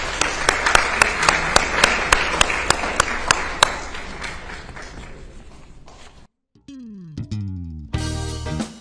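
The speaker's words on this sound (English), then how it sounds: "Give them a round of applause" A few sharp, evenly spaced claps ring out at a city candidates forum, thinning and fading over a few seconds, followed by a brief silence and then bright electronic tones.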